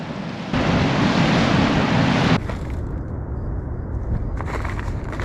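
Sea waves roll onto the coast in Senegal, a loud broadband wash of surf with a stronger surge early on, then a steadier rumble with some wind.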